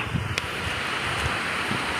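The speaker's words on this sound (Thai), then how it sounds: "ลมแรง" Strong storm wind rushes steadily, with low gusts buffeting the microphone in uneven bursts and no voices.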